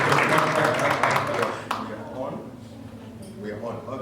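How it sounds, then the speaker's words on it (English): An audience at a civic education morning gathering applauds a speaker, a short burst of clapping that fades within about two seconds as a voice begins talking. "Can you give him another round of applause?"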